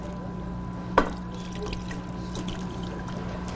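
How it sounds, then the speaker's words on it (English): A thick baked oatmeal mixture is poured into a baking pan, starting with a brief sharp knock, then soft wet sliding and glugging sounds nearby, with no talking. "And you pour it into the pan."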